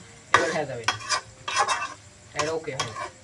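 Friends at a picnic stir and fry food in a wok, with three bursts of metal scraping against the pan over a soft, continuous sizzle.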